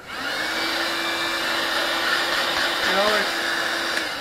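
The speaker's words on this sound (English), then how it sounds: "For cleaning out the basement storage areas, and so forth, we've gotten this little cordless vacuum." A small cordless vacuum cleaner hums steadily at close range with a continuous whine, and a voice speaks briefly over it.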